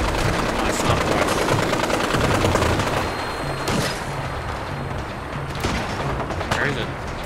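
In the Fallout 4 video game, rapid gunfire and booming shots crackle densely over a steady low rumble. A few sharper reports stand out toward the middle and end.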